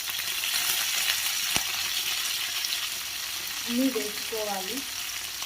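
Onions and curry leaves fry in a pan with a steady, broad sizzle throughout, with a brief clank near the start and a short voice speaking over it toward the end.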